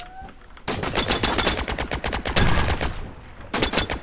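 Rapid, loud bursts of video game weapon fire from a railgun-style gun, a dense rattling volley running for several seconds, pausing briefly near the end before resuming.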